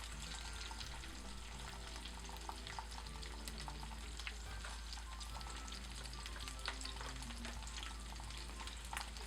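Onion, garlic and butter frying in oil for a steak glaze, a faint, steady sizzle with soft crackles and occasional stirring clicks, no talking.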